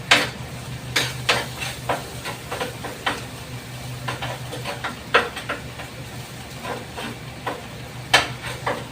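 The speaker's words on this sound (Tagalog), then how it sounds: "Hinaan ang apoy, baka masunog ang bawang." Garlic frying in a pan over low heat, with soft sizzling broken by repeated scraping and clacking from stirring, close and steady across the whole stretch with no voices.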